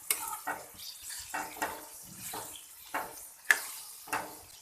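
Liver pieces sear on a tawa with ginger-garlic and green chili paste, heard as rhythmic, fairly quiet spatula scrapes and stirs over a faint sizzle.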